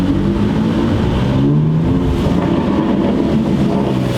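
BMW M3 Competition, a 2018 model, driving in Sport mode through traffic, its engine and exhaust droning steadily and loud throughout, with rough rumbling texture that could carry faint crackles.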